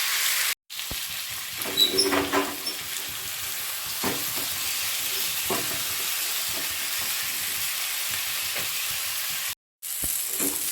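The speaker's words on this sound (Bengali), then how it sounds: "সাদা তেল দিয়েছি, এবারে ম্যারিনেট পনিরগুলো দিয়ে দিতে হবে।" Marinated paneer pieces frying in white oil, a steady close sizzle running throughout with brief stirring clatter, broken by two short silent gaps near the start and end.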